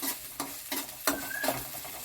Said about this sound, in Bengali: কাঁচা আদার গন্ধটা যাওয়া পর্যন্ত নাড়াচাড়া করব।